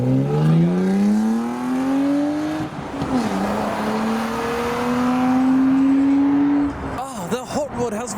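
A BMW E36 hardtop convertible accelerates away from a car show. Its loud, close engine note climbs steadily, dips briefly at a shift, then pulls hard again before fading and breaking up at the end.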